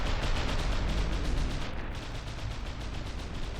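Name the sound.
cannon fire in video game From the Depths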